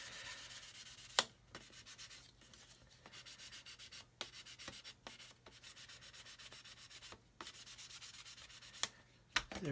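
A sanding stick rubs over Mr. Surfacer primer on a plastic 1/72 Airfix Vulcan model, giving steady close scraping strokes in a repeated rhythm, with a few sharper clicks and no talking.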